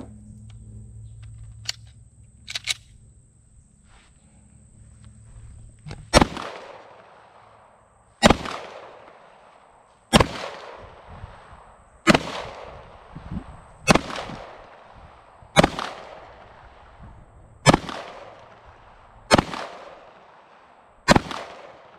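Single pistol shots from a PSA Dagger Glock clone on a training range, about nine sharp reports spaced roughly two seconds apart, loud and close, with a few faint clicks before the firing starts.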